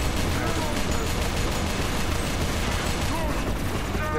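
Dense, continuous gunfire and combat noise from the co-op shooter video game Inversion, a loud unbroken wall of shots with no clear gaps.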